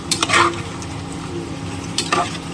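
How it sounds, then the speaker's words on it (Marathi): Hot water goes into a sizzling mutton head curry in a pot, with two short bursts of loud hissing and spatter around scraping stirs, then a quieter simmer between them, close up and without voices. "गरम पाणी केलेलं आहे जेवढा किती रस्सा पाहिजे त्याप्रमाणे पाणी ॲड करायचं"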